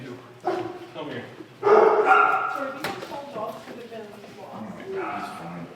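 A dog barks and yips at a dog pound, a few loud close barks rising in the middle among other dogs, with people talking over and between them.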